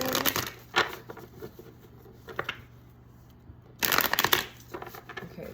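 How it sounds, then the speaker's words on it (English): A deck of tarot cards is shuffled by hand in loud, crisp riffling bursts separated by short quiet gaps, close up, with a voice speaking softly at times. "These cards are not shuffling properly."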